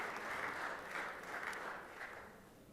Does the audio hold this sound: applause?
yes